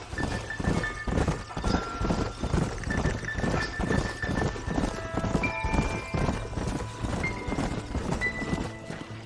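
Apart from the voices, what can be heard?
horses galloping in Red Dead Redemption video game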